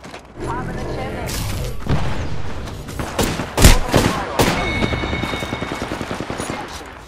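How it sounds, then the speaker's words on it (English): Gunfire in the Apex Legends video game: bursts of rapid automatic shots and sharp single cracks, close and loud, with a heavy boom midway and a rattling fusillade trailing off, mixed with game noise and a player's voice. "I'm getting shot at"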